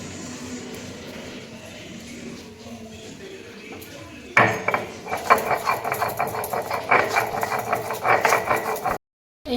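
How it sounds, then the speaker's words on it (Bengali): Green chillies ground into paste by hand on a stone in a home kitchen, a steady scraping, grinding rhythm that starts abruptly and continues close up, with household background noise. "এবার কটা কাঁচা লঙ্কা বেটে নিচ্ছে"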